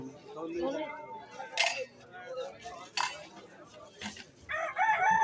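A rooster crows close by amid a busy outdoor livestock market in Mullanpur, with people talking and clattering noises around it.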